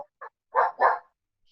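A dog barks nearby, two short quiet yips followed by two louder, fuller barks in quick succession, then silence.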